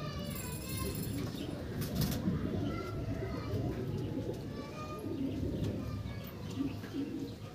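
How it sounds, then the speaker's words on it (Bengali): A black Mechhua pigeon from Andhra coos softly and repeatedly amid other birds, with a faint background hum and distant chirps throughout. "মেছুয়া পায়রা।"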